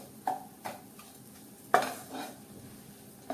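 A spoon stirs a spiced green pea patty filling in a pan over low heat, giving a handful of soft, separate scrapes and taps against a quiet background.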